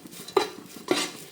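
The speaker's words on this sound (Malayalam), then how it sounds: "ഒരു മുറി തേങ്ങയാണ് എടുത്തിട്ടുള്ളത്. അതൊന്ന് വറുത്തെടുക്കാം." A utensil scraping and stirring coconut pieces as they roast in a pan over a medium flame, two soft scrapes close by with a faint sizzle underneath.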